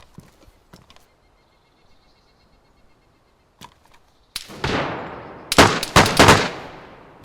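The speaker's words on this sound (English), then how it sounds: "Once I'm there, I hear gunshots." Gunfire in the video game DayZ: faint distant pops first, then a loud burst of several sharp reports close together with ringing decay.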